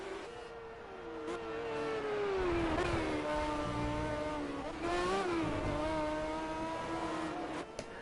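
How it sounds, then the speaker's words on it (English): A race car at Cadwell Park sweeps past close by with a loud engine note that climbs, dips and climbs again through the gears. The roar swells to a peak as it passes, then carries on strongly, with no talk over it. "You can hear the car blur past the camera now."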